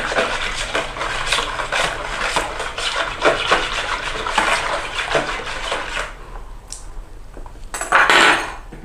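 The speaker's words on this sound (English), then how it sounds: "whisk that" A whisk or fork beats an egg with natural yogurt in a bowl, a rapid, steady clinking and scraping close by, easing off near the end before a final clatter.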